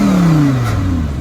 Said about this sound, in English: going to give it a rev with the valves closed